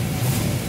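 A 1957 Chevrolet Corvette engine running steadily just after starting, a low throaty rumble, loud and close, held for a short moment with no talk.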